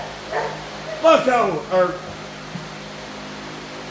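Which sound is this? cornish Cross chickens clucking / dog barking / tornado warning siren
dog barking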